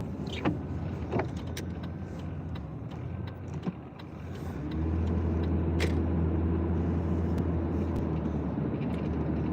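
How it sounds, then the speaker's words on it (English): A car passing on a road, heard from inside another vehicle over steady engine and road rumble that swells and thickens partway through, with small clicks and rattles in the cabin. "Wonderful car coming."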